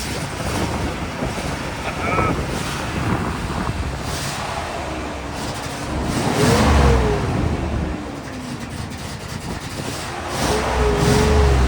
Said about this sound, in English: let's see if we can get this thing fired up and maybe rev